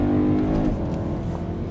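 A BMW E92 M3 engine drones steadily while driving, a low, loud rumble filling the cabin for a short stretch with a slight fall in pitch.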